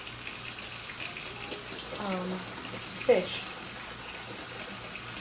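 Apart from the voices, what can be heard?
bucket filling with water from a tap for aquarium change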